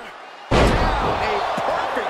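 Arena crowd in the WWE 2K23 wrestling game during a table match: a sudden heavy slam followed by a sustained, loud crowd roar, with a commentator talking over it.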